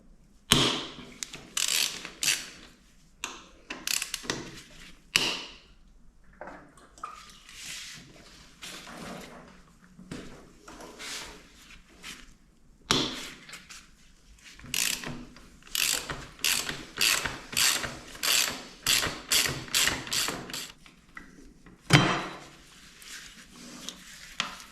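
Ratchet wrench loosening the front brake caliper screws on a Ducati Scrambler motorcycle, heard as repeated bursts of quick clicking strokes in close, loud runs separated by short pauses.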